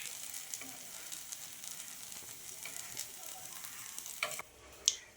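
Ponganalu sizzle in a pan: a steady soft frying hiss throughout, broken near the end by a few sharp clicks and scrapes as they are turned.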